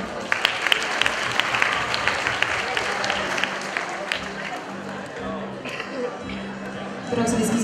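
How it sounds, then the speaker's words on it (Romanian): Loud, sustained audience applause at the Bal Roth 2019 event: dense, continuous clapping from a large crowd with a faint murmur of voices underneath, swelling slightly near the end. "Aplauze, vă rog."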